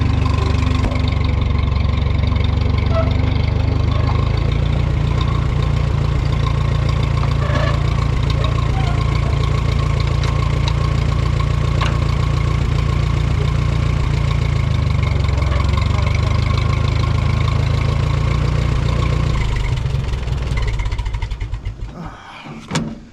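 A Kubota M5 tractor engine idles loudly close by without letup, a low rumbling drone that holds even for over twenty seconds before cutting off near the end.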